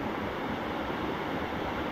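Waterfall at Charco Prieto in Bayamón, Puerto Rico, heard as a dense, steady roar of rushing water, constant and close, with no voices over it.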